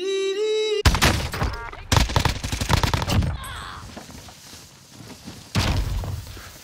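Gunshots in Call of Duty: Warzone: several loud, close bursts of gunfire separated by pauses, each sharp and booming, following a brief electronic tone at the start.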